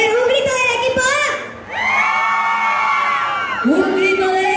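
A youth group at a team game shouts a loud, ragged cheer together, overlapping voices rising in a sustained whooping yell, a brief dip, then a second surge of shouting close to the microphone.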